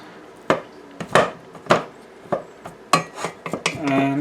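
A utensil stirring and breaking apart food in a pot, with repeated close clanks and scrapes of metal on metal in an uneven rhythm.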